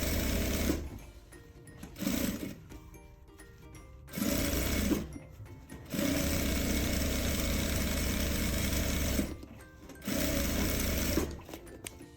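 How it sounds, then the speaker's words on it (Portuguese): Sewing machine stitching a fabric bag, running in several loud bursts of rapid mechanical whirring separated by short quiet pauses, close up and with no voices. "E aí eu vou fazer só uma costurinha de segurança em volta."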